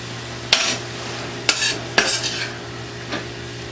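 A slotted spoon scrapes and clinks against a pan while scooping cooked egg roll filling, with three or four short scraping strikes over a steady low hum and faint sizzle.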